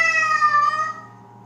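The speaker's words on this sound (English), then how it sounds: "He's pretty loud. What? What do you want? Wow. Loud cat." A cat named as loud gives one drawn-out, strongly voiced meow, close and forceful for about a second before it cuts off into quiet room tone.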